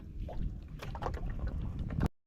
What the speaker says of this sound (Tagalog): Takbo yung bangka.